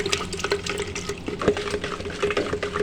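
Sugar being stirred into water for shakar cola, with soft sloshing and swirling liquid and light clinks against the vessel, steady and close with no speech.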